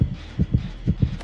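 Heartbeat effect from the horror video game Dead by Daylight thumps in doubled beats, a deep loud rhythmic throb repeating about every half second with no talk.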